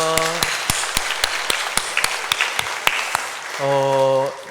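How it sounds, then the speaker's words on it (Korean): Congregation applause at the end of a Sunday church service, with sparse distinct claps over a room-filling tone, and a sustained organ or keyboard chord sounding near the start and again at the end. "박수로 영광 올려드리겠습니다."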